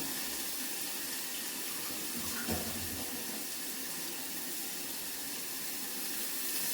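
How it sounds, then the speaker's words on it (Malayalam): Running tap water rinses out a mixer grinder jar in a home kitchen, a steady broadband splash held at an even level throughout, with one brief knock of the jar partway through. "മിക്സി കഴുകി ഒരു ശക്കലം വെള്ളം കൂടെ ചേർത്ത് കൊടുക്കാം"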